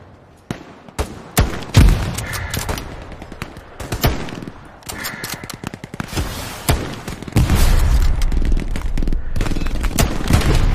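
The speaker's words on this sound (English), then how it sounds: "That guy's throwing grenades at it though." Hell Let Loose battle on the Foy Offensive map, with loud rapid gunfire, sharp single shots and booming grenade explosions, ending in a long dense burst of firing, close and intense, with players talking over it.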